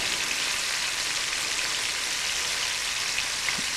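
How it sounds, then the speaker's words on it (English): Food searing in a pan over medium-high heat, a steady dense sizzle like rain, constant and fairly loud for the whole stretch with no talking. "we are going to let these sear for about 2 to 3 minutes on each side"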